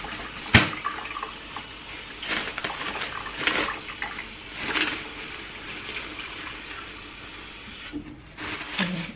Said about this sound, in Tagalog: Naglalagay pa lang ako ng tubig